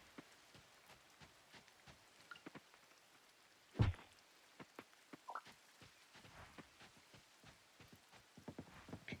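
Steady rainfall in the farming game Coral Island, a soft continuous patter of drops with scattered louder taps and one brief sharper knock midway, no voices.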